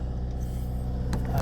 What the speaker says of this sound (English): So keep revving up. That is 2000 rpm.